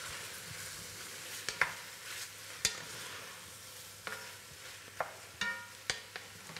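Eel fries in a pan for eel in green herb sauce, giving a faint, steady sizzle broken by scattered clicks and scrapes of a utensil stirring, quiet and close.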